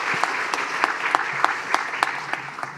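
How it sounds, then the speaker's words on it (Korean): A church congregation claps in welcome during a Sunday service, steady rhythmic applause with evenly spaced accented claps carrying through the room at moderate volume. "환영의 박수 드립니다."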